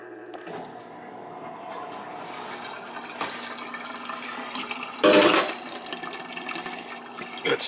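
Water from a dishwasher drain cycle gushes and gurgles into a drainpipe in a summer home being winterized, with a steady trickle and one louder surge.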